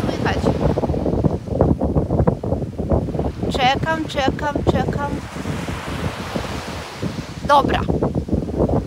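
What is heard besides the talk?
sea waves and wind at the shore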